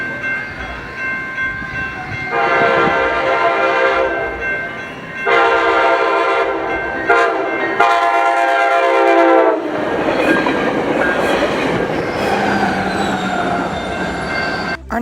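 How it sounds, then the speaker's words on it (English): A Coaster commuter train running as an empty deadhead, led by cab car 2309, passes Carlsbad Village Station. Several long, loud horn blasts ring out over the steady rumble and clatter of the wheels. "Our next train would actually be a Coaster Deadhead heading to San Diego for the Padres game, with Cab Car 2309 leading."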